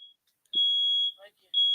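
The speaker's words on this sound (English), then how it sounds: "That's a fire alarm in your house." A house smoke alarm sounds loud, piercing high beeps, one short then two long tones, with a brief voice murmur in a gap between them.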